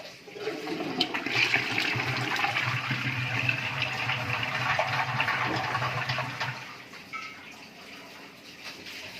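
Pumped water gushes steadily through a pipe being flushed at a borewell site in Gujarat, a loud continuous rushing that carries on for several seconds and then eases slightly toward the end.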